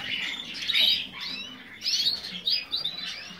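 A red canary kept in a bird keeper's aviary chirps in bright, high trilling bursts with short gaps, close and clear over a faint low background murmur.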